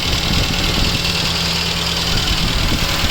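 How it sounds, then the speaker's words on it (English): A 2006 Hindustan Motors Ambassador's four-cylinder Isuzu petrol engine idles steadily up close, a constant low rumble with a faint mechanical whir and no change in speed. "right now I'll be starting the vehicle and showing you the sound of the engine"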